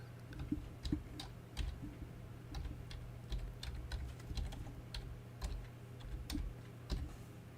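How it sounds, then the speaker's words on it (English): Fingers type on a computer keyboard in short irregular bursts of soft clicking keys, close but quiet over a low steady hum. "Let me type this in."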